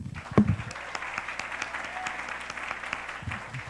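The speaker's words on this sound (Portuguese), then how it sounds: "Quantos podemos aplaudi-lo?" A church congregation claps during a sermon, a brief burst of scattered hand claps with a louder clap near the start, then a thinner patter that carries on under faint background voices.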